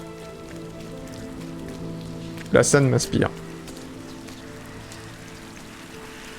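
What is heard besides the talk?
rain falling in the video game RiME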